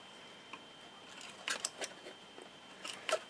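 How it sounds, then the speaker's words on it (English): Scissors snip a tiny piece of paper or card while a mini folio album is being assembled: a few sharp, light cuts cluster around the middle and end, close up and fairly quiet, with no talking. "I think I just need to cut off, just need a tiny little bit off."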